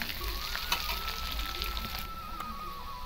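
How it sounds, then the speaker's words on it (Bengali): Capsicum frying with grated ginger in hot oil in a pan, a constant close crackling sizzle with a faint high whine and an occasional stir, with no talk. "এবার আমি দিয়ে দেবো ক্যাপসিকামটা"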